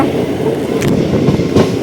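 A passenger train from Tiruvannamalai to Tirupati rolls along, a loud steady rumble with wheels clattering over rail joints and a couple of brief sharper rattles, close by and without voices.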